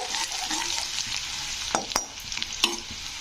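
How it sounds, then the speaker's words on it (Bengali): Chopped garlic fries in hot oil for chilli chicken, a continuous close sizzle with a few sharp scrapes and taps of a spoon stirring the pan, no talking. "রসুনটা দিয়ে একটু নাড়াচাড়া করতে হবে"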